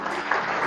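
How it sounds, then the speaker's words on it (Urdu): Audience applause at a charity event for the Indus hospital, steady dense clapping filling a short burst without speech. "ڈاکٹر باری صاحب جی، آپ کی بھرپور تالیوں میں"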